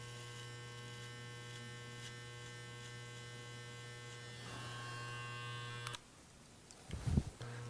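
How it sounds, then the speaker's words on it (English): An electric hair clipper runs with a steady mains-like buzz for about six seconds while cutting through the temple area on a short men's straight-hair clipper cut, then stops, followed by a few brief handling knocks. "we turn the clipper at a 45-degree angle and come through the temple area"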